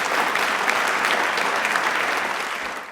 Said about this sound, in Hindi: जोरदार एक बार तालियां हो जाए प्लीज